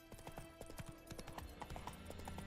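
Hooves clip-clop at a steady gallop from a spurred horse in The Witcher 3, with brief whinnies amid game music and background effects, the rhythm holding throughout.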